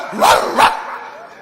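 A dog gives two quick, loud barks close by, followed by a lingering fade with no talking.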